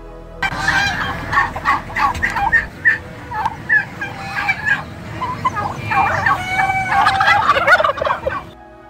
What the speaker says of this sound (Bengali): টার্কি হলো একটি বৃহৎ আকারের পাখির নাম, যারা মূলত উত্তর আমেরিকার বনাঞ্চলে বসবাস করে এবং তাদের শব্দ কিছুটা এরকম হয়।